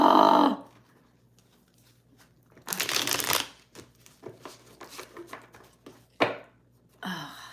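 Tarot cards shuffled by hand in a series of riffle and bridge bursts, the loud crisp flutters separated by softer taps and card handling, close and with no talk.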